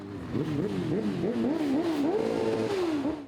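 A column of motorcycles rolls slowly but loudly through the streets of Uzhhorod at a biker season opening, engines droning and revving with rising and falling pitch, close by and sustained throughout, with no talking.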